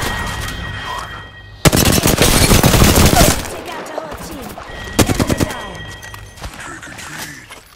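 Enemy gunfire in Apex Legends erupts in two loud, dense bursts of rapid automatic shots, close by, separated by quieter game ambience.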